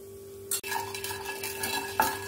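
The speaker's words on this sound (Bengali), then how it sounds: "ভালো করে মিক্স করে নিয়েছি তেল আর তেলের সঙ্গে হলুদ আর লবণটা।" Oil with turmeric and salt is stirred in a wok for egg curry, with sharp scraping clinks of a utensil against the metal at two distinct moments over a faint background hum.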